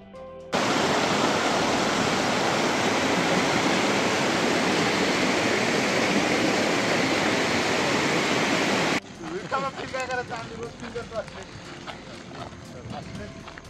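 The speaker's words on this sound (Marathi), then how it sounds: "इथे देखील काही वेळ मी शांत बसून पाण्याचा आवाज ऐकण्याचा प्रयत्न केला." A waterfall in Bhandardara roars loud and continuous, a dense rushing wash of water nearby, then cuts away to quieter ambience with people talking.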